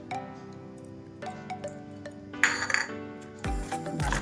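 A spoon clinks against a bowl while idli batter is mixed with baking soda, giving a few light, scattered metallic taps close by, then a louder scraping stir near the end.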